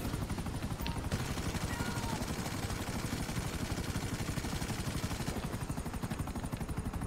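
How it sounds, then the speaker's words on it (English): A video game helicopter's rotors make a steady, dense, rapid chopping drone that runs throughout without a break, with faint background game noise. "Oh, this is a helicopter."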